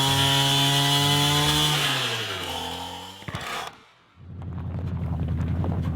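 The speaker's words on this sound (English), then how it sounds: "Okay, all right, we'll get the chainsaw." A chainsaw clears a landslide on a Washington backroad, close and loud, its engine pitch rising and falling as it revs. After a brief drop it settles into a steady, rough cutting buzz.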